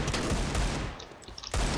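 Close, loud bursts of rapid automatic gunfire in a CS:GO competitive match, a dense rattling volley that briefly thins out before resuming at full force.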